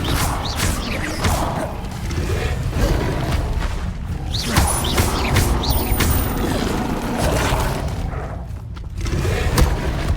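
Incendio fire spell cast in the video game Hogwarts Legacy: a dense, continuous wash of game effects with repeated booming thuds and swooshing bursts, loud and close throughout.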